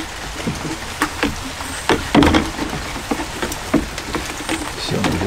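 Rain falls steadily with scattered louder drops and taps, heard close and fairly loud, with no voices.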